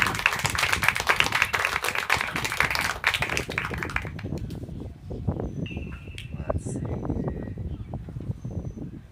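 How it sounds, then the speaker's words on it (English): An audience claps at a student storytelling showcase, a burst of many hands that thins out and fades after a few seconds into scattered claps and a voice. "So round of applause"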